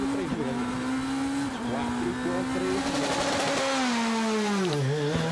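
M-Sport Ford Fiesta S2000 rally car driven hard on a tarmac stage in Madeira, its engine note holding a loud, steady high drone that dips and climbs through gear changes, with commentary voices running over it.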